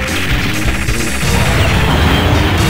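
Dense, rapid gunfire and crashing impacts batter the player in the arcade run-and-gun game Metal Slug X with blood enabled, a loud, continuous barrage of hits and shots that runs through the whole moment without speech.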